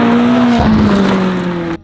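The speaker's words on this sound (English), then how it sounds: "He has spun out on this corner" McLaren 675LT spinning out on a race track corner, with a loud, close engine drone and tire noise that shifts pitch mid-slide, then cuts off abruptly near the end.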